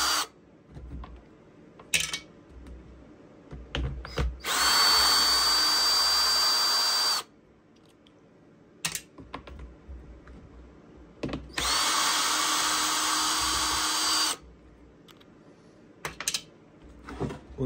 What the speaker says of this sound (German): dann als nächstes schrauben wir die ganzen Schrauben erstmal aus der Seite raus.